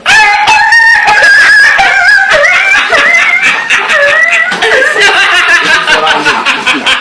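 A man imitates a barking dog with his voice, a string of loud, close, yelping bursts in quick irregular rhythm, alone without other sound.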